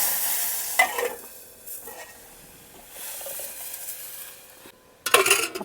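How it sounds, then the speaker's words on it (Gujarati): Mustard seeds, cumin, asafoetida and curry leaves sizzle softly in hot oil for a bitter gourd kadhi, with scraping and clinking from stirring in the pot and a louder clattering burst at the end. "આ આપણે નાખી દીધી રાઈ, આ છે જીરું, આ છે હિંગ, આ છે લીમડો નાખીને આપણે જો આ રીતનો વઘાર કરવાનો છે"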